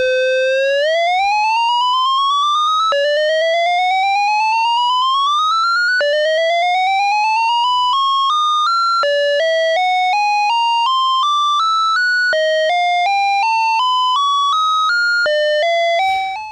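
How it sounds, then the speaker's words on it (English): Korg ARP 2600M synthesizer playing a sawtooth wave through sample and hold, unfiltered: bright buzzy tones stepping upward in rising stair-like runs, then shifting to a run of discrete random pitched steps, clear and alone. "now let's add the sample and hold and see where we're at."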